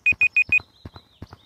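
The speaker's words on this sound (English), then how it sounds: "This beeping is incessant." Video game Gorilla Tag: four sharp electronic beeps in quick even succession, loud and close, followed by softer thuds and small knocks with no talk.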